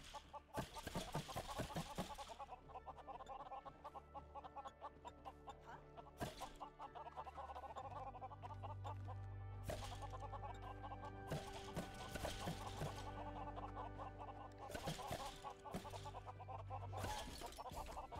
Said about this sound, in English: Oh no, the chickens are escaping.